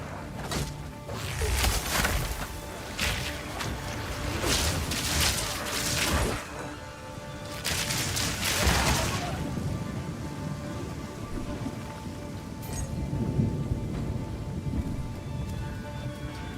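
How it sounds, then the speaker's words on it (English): Lightning arrow skill firing in Path of Exile 2: repeated crackling, zapping electrical bursts and thunder-like booms layered over rumbling game ambience, loud and busy, with irregular clusters of impacts. "I like the sound of the lightning arrow too"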